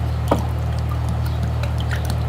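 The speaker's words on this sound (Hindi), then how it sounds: "ये 3 गिलास हमने इसके अंदर पानी डाल दिया है।" Water poured into a jug while making mango squash at home, a short close liquid pour over a steady low background hum, no voices.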